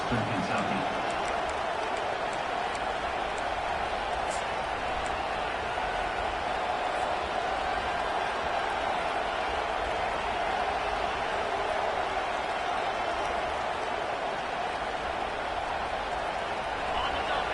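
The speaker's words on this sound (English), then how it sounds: "Here comes this home crowd as the defense tries to get off the field on third down." Home crowd at a football game roaring on third down as the defense tries to get off the field, a loud, dense, steady wash of cheering and noise that fills the whole stretch, with a voice faintly beneath it.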